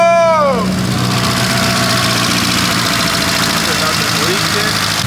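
A fully built Evo 8 2.4L stroker engine idles loud and steady with a lumpy, choppy cam rhythm, having just fired after sitting for four years. A voice shouts over the opening second.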